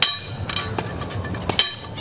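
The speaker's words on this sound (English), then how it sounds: "hammering away" Flagpoles are hammered into dry ground at a memorial gardens cemetery while 250 American flags go up for a Veterans Day display. Several sharp metallic strikes ring out at irregular intervals over a low outdoor rumble.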